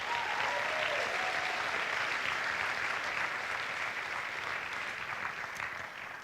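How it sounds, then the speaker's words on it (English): A pageant audience applauds the contestants with sustained, even clapping that fills the hall and fades slightly toward the end, with no talking over it. "Let's give all these ladies a round of applause."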